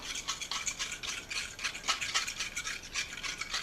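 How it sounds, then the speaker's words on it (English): A fork beating a liquid mixture of about a quarter cup of water in a small container, giving steady, rapid scraping and rattling strokes at close range with no talking. "Don't use a spoon, use a fork."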